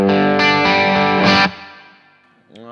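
An electric guitar played through an MXR Duke of Tone overdrive pedal rings out in loud, driven chords that sustain and then decay, followed by a brief new note.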